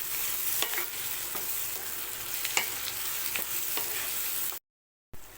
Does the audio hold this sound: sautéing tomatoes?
yes